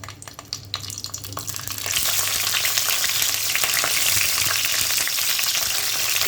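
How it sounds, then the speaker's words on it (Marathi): Stuffed capsicums drop into hot oil, and after a quieter start with a few knocks, a loud, dense frying hiss rises and holds steady close by. "गरम तेलामध्ये आता आपण या मिरच्या घालू"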